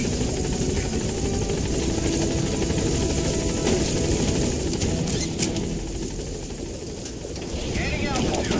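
Support helicopter in Metal Gear Solid 5 hovering and flying near a landing zone, a steady loud rotor roar filling the whole clip, with faint radio-style voice chatter underneath.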